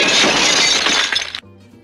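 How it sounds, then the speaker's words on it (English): A gourd of molasses is smashed to pieces on the ground after a fall, a loud, bright, shattering crash lasting over a second before cutting off to a faint ringing tail. "she tripped on the root of a tree, smashing the gourd into pieces"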